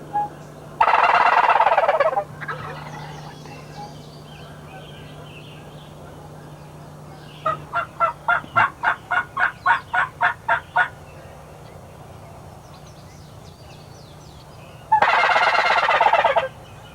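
A Penn gobbler call imitates a wild turkey during a hunt, with a loud gobbling burst, then a rapid series of about a dozen evenly spaced clucks, and a final gobble near the end, with quiet woods in between.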